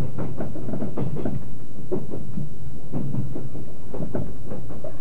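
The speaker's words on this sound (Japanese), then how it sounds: "そして列車は新見駅に到着" A Yakumo limited express train rolls along double track toward Niimi station, heard from a swaying panorama seat as a steady, close rumble broken by rhythmic clattering beats over the rail joints, with no talking.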